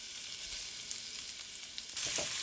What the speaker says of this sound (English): Add whole spices. Fry a few seconds.